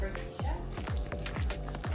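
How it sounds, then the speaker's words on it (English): Tinola soup sizzling and bubbling in a pot on the stove as ingredients are dropped in, a dense steady hiss with repeated short splashes and stirring knocks close by. "And then we got the tinola over here. It's boiling now."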